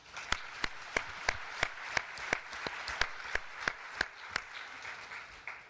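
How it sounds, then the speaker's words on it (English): Clapping of hands in an even, brisk rhythm, about three claps a second, crisp and fairly near, continuing for several seconds without talk. "give yourself a round of applause"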